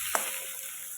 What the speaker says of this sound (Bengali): পেঁয়াজটাকে বেশ হালকা লাল করে ভেজে নিতে হবে